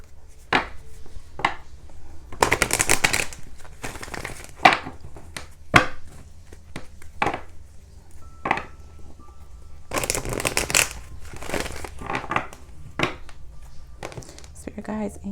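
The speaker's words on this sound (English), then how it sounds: "I'm going to shuffle, flip the deck, and pull." A tarot deck is shuffled by hand in bursts of riffling and soft slapping card sounds, close and crisp, with quieter handling and taps between the bursts.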